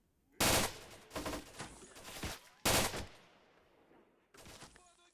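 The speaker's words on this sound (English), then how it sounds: "Literally just waiting for muzzle flash and shooting at it." Gunfire in the S.T.A.L.K.E.R. Priboi Story mod: two loud, close bursts of automatic fire around a second apart, each trailing off into echoing reports, then a quiet stretch and a final shorter burst.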